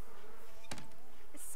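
Bees buzzing in The Sims 4, a steady close insect drone with a sharp click midway and a brighter tone at the very end.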